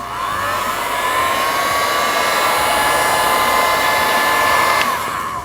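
A heat gun blows steadily, warming vinyl wrap laid over a chrome car badge; a loud, continuous close-up hiss and whine holds for several seconds with no talking.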